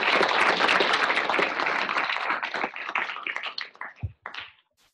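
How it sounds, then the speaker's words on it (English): Audience applause at the end of a university seminar talk, a dense wash of clapping that thins into scattered individual claps and fades to silence. "let's give Ellie another round of applause."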